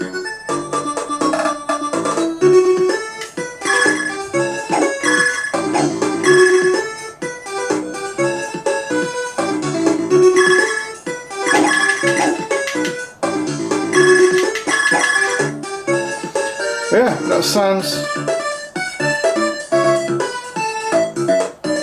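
Bright, busy chiptune-style music from the game Pang on a Commodore Amiga 1200, with a steady beat and melodic blips, layered with short arcade sound effects, continuous and loud, with no talking.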